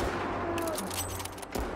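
Rapid burst of gunfire in a video game, several close cracks piled into a short dense volley over a constant background hum, with no talking.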